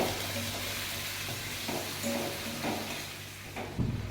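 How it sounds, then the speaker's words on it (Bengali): Onions frying with ginger, garlic and chili paste, giving a steady sizzle with occasional stirring scrapes and light clatter from utensils against the pan. "পেঁয়াজগুলো আমি হালকা লাল লাল করেই ভাজবো। আর এর মধ্যে আমি 1 চামচ আদা রসুন আর লঙ্কা বাটাটা দিয়ে দেবো।"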